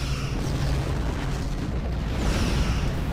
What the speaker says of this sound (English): Torpedo hits there.